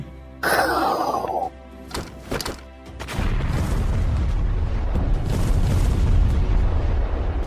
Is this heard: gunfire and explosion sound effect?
yes